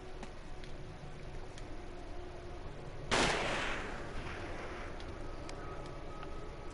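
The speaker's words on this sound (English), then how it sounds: "He can't shoot twice in one go, so just run first. Shotguns are slow." A single loud shotgun blast in the horror video game Forbidden Siren cuts through a low background drone, followed by a short fading tail.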